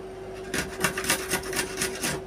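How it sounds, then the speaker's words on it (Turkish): Garlic rubbed against the fine side of a kitchen grater, a series of about six rhythmic rasping strokes, close and clear, over a faint steady hum. "Onları da rendenin şöyle biraz ufak yerinden rendeliyoruz."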